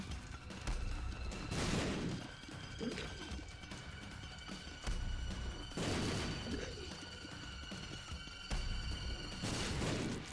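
Bomb blasts in The Binding of Isaac Repentance+, three heavy booming explosions spaced a few seconds apart, each a broad crashing burst that decays over a second above a steady backdrop of game music.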